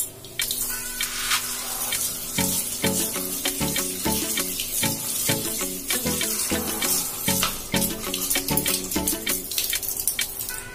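Tap water runs steadily over parts of a Havells coffee maker, rinsing out tea leaves, with a rapid series of splashy knocks and clatters as the pieces are turned under the faucet.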